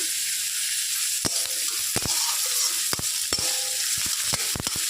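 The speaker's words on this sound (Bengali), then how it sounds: "এবার পেঁয়াজটা তেলের মধ্যে হালকা করে একটু নেড়ে দিচ্ছি" Sliced onion sizzling in hot oil in a kadai, a steady bright frying hiss broken by sharp clacks and scrapes of a spatula stirring at close range.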